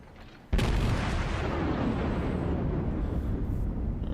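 A battleship's main guns fire in World of Warships, one sudden loud boom followed by a long, heavy rumbling roar that holds steady for several seconds.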